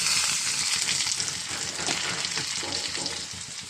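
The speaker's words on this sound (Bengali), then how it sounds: "এরপর কিছু কাঁচা জিরা দিয়ে দেবো ফ্লেভারটা সুন্দর আসবে জন্য।" Whole cumin seeds hit hot oil and crackle in a steady, close sizzle that fills the moment without pause, with faint stirring underneath and no voices.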